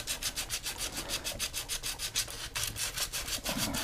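A wooden spoon bowl being sanded by hand with sandpaper while held still in a table vise, a steady run of rhythmic rasping back-and-forth strokes, close and fairly loud throughout.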